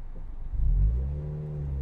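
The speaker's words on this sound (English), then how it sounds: "You can still hear that Harley. He's just giving it some gas going up the hill there." A Harley motorcycle engine rumbles at a distance, its low throaty drone swelling briefly as it accelerates uphill, then holding steady.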